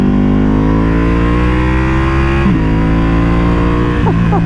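A Ducati Panigale V2 motorcycle on magnesium wheels roars loud and close, its engine and exhaust climbing in pitch and then dropping sharply at two quick upshifts before rising again.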